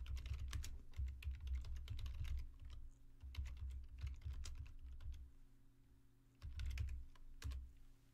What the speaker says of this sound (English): we could use a keyboard to import our sub-steps